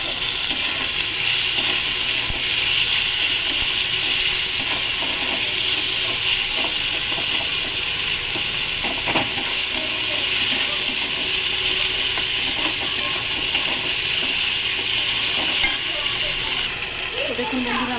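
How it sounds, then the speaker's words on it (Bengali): Prawns frying in a kadai wok with ginger and garlic, a steady, close hiss and sizzle of hot oil running throughout, with a voice talking over it. "আদা রসুনের গন্ধটা নিয়ে এবার আমি চিংড়ি দিয়ে দিলাম কড়াইতে"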